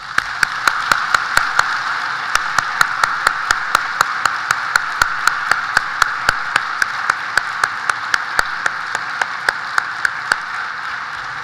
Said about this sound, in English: May I ask you to join me in a round of applause for our hosts.